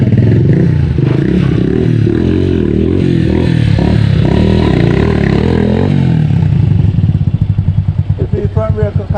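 A 250 motorcycle with a loud, chopped muffler revs close up with a harsh, throaty roar that keeps going. Toward the end it breaks into choppy pulses, and people talk nearby.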